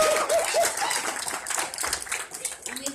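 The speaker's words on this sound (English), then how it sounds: "so we have an extra big cheer" BronyCon audience cheering and clapping in a big hall, a dense burst of applause and whoops with voices mixed in throughout.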